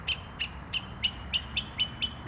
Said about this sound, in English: Is that a mockingbird?